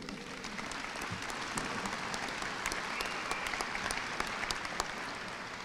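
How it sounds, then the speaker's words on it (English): An audience at a South High graduation ceremony in Salina claps continuously, a broad wash of many hands in a large hall, steady and fairly distant with a few sharper nearby claps standing out. "It's okay to clap"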